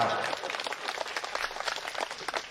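Audience clapping at a Hindi hasya kavi sammelan (comedy poetry gathering), a dense, steady patter of many hands throughout with faint voices mixed in.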